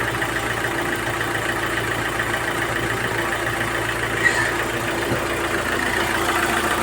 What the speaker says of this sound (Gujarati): અને સાઉન્ડમાં ઘણો ફેર પડી ગયો એન્જિનમાં